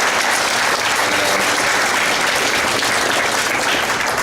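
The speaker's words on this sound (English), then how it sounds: "round of applause" Wedding guests break into a full round of applause, many hands clapping in a thick, sustained wash that stays loud and even throughout with no speech on top.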